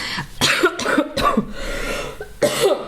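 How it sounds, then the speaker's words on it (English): Someone coughs repeatedly in harsh, rapid bursts close to the mic, a sustained coughing fit with short gasps between. "I'm getting into a coughing fit"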